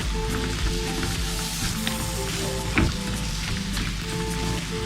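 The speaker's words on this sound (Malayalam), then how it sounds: "തക്കാളിയും കൂടി ചേർത്തിട്ട് ഇത് നന്നായി വഴറ്റിയെടുക്കണം" Tomatoes with onion, masala powders and salt sautéing in a pan for banana-leaf chicken curry, giving a steady, close sizzle with a faint hum underneath and one brief clatter of stirring.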